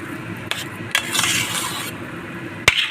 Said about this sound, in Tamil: அது நல்லா கிண்டி விட்டுறணும்